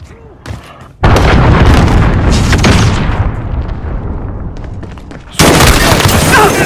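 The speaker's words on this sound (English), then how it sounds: "Enemy cruise missile incoming!" A cruise missile explodes in Call of Duty: Modern Warfare with a sudden, very loud, close boom and a long rumbling roar, then a second heavy blast hits near the end.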